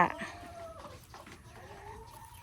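Egg-laying hens inside a coop on a small farm that also keeps cattle, giving drawn-out clucks and croaky calls in a quiet, scattered run, close by and moderately faint.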